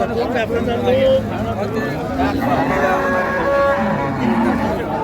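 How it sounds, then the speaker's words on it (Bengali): Dairy cows and calves of improved milking breeds at a busy rural cattle market in Dinajpur, with repeated moos rising over a steady hubbub of crowd chatter and nearby voices throughout. "গাভী বাছুর আমরা দেখছিলাম"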